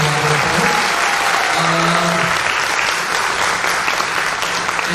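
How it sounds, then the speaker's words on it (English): Dense, steady applause fills the room from a large audience at an inclusion event, continuous crowd clapping at even loudness throughout, with faint voices mixed in underneath. "can we just clap for all our wonderful collaborators"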